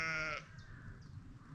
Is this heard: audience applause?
no